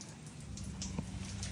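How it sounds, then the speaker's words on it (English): Steady rain falls outdoors during a car detailing job, with soft scattered drop hits over a continuous low wash of noise and no voices. "It has started raining since we started"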